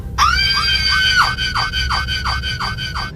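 Ghostly girls screaming as a horror sound effect: a long shrill wail followed by a rapid series of repeated piercing shrieks, loud and close, no talk.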